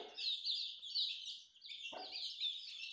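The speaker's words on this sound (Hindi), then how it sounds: "ये मेरी बहुत ही अच्छी फाइटर मुर्गी है।" An Aseel fighter hen clucks and calls steadily, nearby, in bright, fairly loud bursts with short pauses, alongside other fowl, with no talking.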